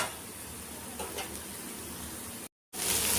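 Chopped garlic sizzles in a pan as it is stirred, a steady soft crackling hiss at low volume with faint scraping, ending in a brief cut.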